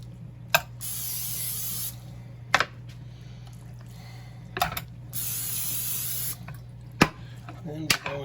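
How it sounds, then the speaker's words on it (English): Olive oil spray misted onto a turkey in a kitchen in three long hissing bursts, each a second or more long. Short thumps and handling noises fall between them, with a steady low hum underneath. "Spray with some spray olive oil."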